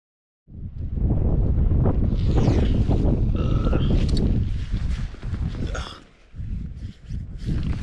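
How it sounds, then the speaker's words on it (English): Strong wind with light rain on an exposed mountain near Ben Cruachan during a wild camp, roaring and buffeting loudly and steadily against the microphone, easing briefly near the end; no separate rain patter stands out. "it's like light rain and very windy, so it sounds like it's raining a lot"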